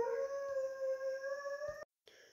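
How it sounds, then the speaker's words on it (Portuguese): A pet dog lets out a long, sustained, tonal howl that holds steady, then breaks off abruptly into a brief silence before faint sound resumes. "acho que meu cachorro Snoopy parou de cantar ópera agora no momento"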